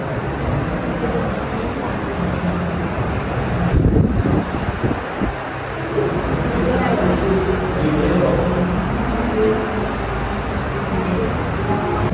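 Cool wind gusting across a high viewpoint in Chiang Rai, a constant loud rushing buffet on the microphone with distant traffic-like hum, while people talk throughout.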